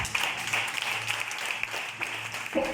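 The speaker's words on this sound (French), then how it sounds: "Acclame pour Jésus." A church congregation applauds for Jesus during a service: a continuous, fairly loud wash of clapping from many hands that carries through to the end.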